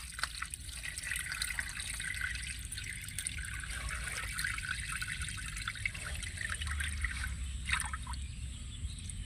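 Water poured slowly off settling sand in a container while cleaning sand for a filter or aquarium, a soft continuous trickle with light dribbles and drips, close and fairly quiet, with no talk.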